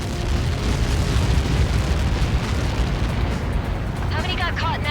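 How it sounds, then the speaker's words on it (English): Massive missile impact blast in the Ace Combat 7 flight game, a long roaring rumble that fills the scene, loud and sustained, with a brief radio voice chirp near the end. "How many got caught in that explosion?"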